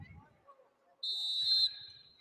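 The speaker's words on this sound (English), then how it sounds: "we get a whistle and a foul away from the ball" A referee's whistle blows once, a sharp shrill blast lasting about half a second, in a gym during a girls high school basketball game, with faint crowd noise around it.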